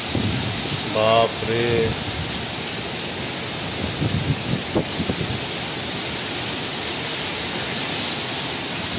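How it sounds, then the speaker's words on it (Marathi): Wind and rain rush steadily through a cyclonic storm night on the Konkan coast, a constant loud wash of noise, while a voice exclaims briefly early on. "जोरात कोण हवा सोडतोय ना, हवा पाणी एकदम जोरात, तसं झालंय बघा"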